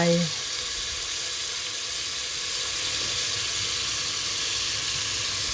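Water and oyster sauce hitting a hot pan, giving a steady broad sizzle that holds at an even level throughout after a brief louder start.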